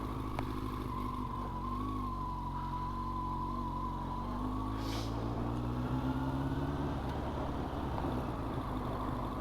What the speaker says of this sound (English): Bike starts right up like a beauty and idles.